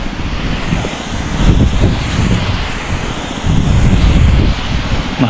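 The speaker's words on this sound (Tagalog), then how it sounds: "Mahangin lang." Strong wind buffets the microphone in a loud, continuous rumbling roar that swells and eases, with no talking.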